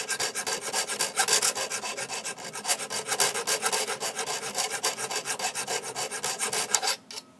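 A hand file rasps rhythmically along the blades of an electric hedge trimmer to sharpen them, with quick repeated close-up strokes throughout that stop abruptly near the end.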